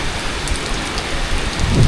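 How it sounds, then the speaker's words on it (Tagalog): Heavy rain pouring continuously in a thick, even hiss, with a low rumble building in the final moments. "Ngayon naman po ay sobrang lakas po ng ulan"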